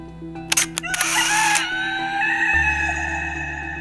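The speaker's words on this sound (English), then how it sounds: "The rooster crowed." A rooster crows once in a long, rising and falling call, fairly close, over a steady low background hum.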